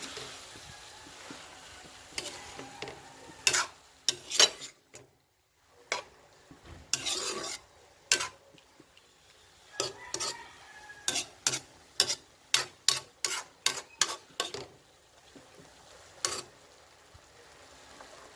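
Squid adobo simmering at a boil in a pan is stirred with a utensil, giving a run of sharp, close clacks and scrapes against the pan over a soft bubbling background, with a brief pause partway.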